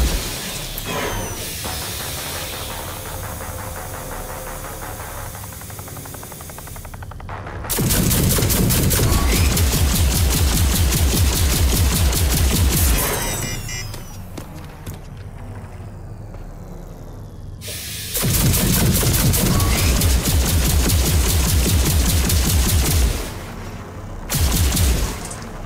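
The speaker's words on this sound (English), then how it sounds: "Charged pulse cannon. It's a high firing rate weapon whose damage increases when reaching optimal heat" Charged pulse cannon firing in the video game Rage 2, rapid bursts of high-rate energy fire alternating with hissing, steamy venting, loud and dense with short gaps between volleys.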